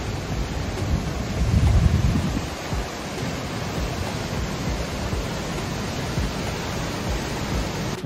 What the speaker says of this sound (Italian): Cosa bella è che proprio dietro c'è il torrente e una cascatina, quindi per tutto il giorno c'è il rumore dell'acqua